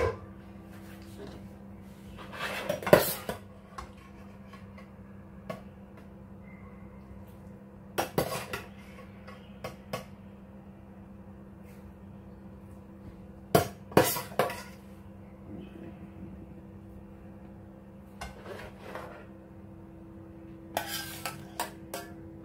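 Macaroni being stirred into tomato sauce in a pot, with a few separate bursts of metal utensil clanks and scrapes against the pot over a quiet steady hum.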